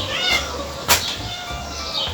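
Cats meow in a few short, clear cries over a couple of seconds, fairly close by, with no talking.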